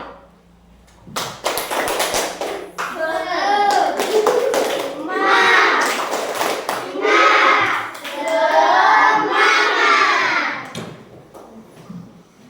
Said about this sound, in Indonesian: kita tepuk semangat 1 kali